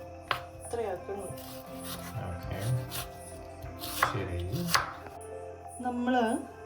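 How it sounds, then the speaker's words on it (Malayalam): Onion being chopped finely with a knife on a board, a series of sharp close taps at an irregular rhythm, with someone talking over the cutting. "ഉള്ളി കുനുകുന അരിഞ്ഞിട്ടല്ലേ? വളരെ ചെറുതാക്കി"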